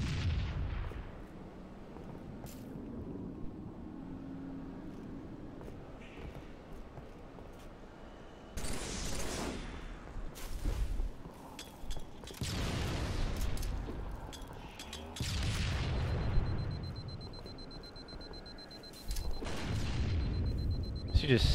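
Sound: grenade explosion and gunfire in Halo 3 video game

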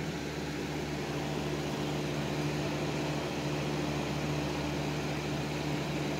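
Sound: electric fan running

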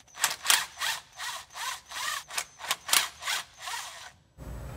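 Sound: removing transmission filter bolts with a T20 Torx socket

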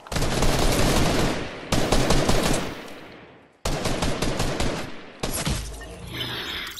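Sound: gunfire in a video game (creative map)

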